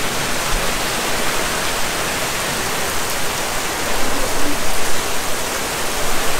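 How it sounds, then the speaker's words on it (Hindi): Heavy rain pours steadily outdoors in a thunderstorm, a dense, even hiss that swells slightly toward the end, with no voices over it. "इसीलिए बारिश हो रही है।"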